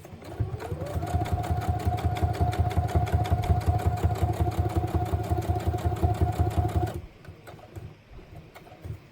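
A sewing machine runs a steady, fast stitching rhythm for about seven seconds while back stitching, the close motor whir and needle clatter ending abruptly into quiet room sound.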